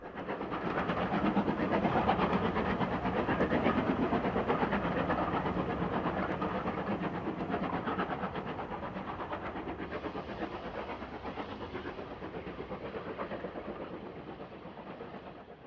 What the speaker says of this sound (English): The train climbs the 1 in 100 bank, passing the West Midlands Safari Park as it climbs away from Bewdley towards Foley Park Tunnel